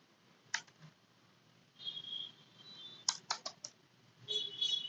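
Scattered keyboard typing at a computer, with short bursts of crisp key clicks and pauses between them, close and moderately quiet, with no voices.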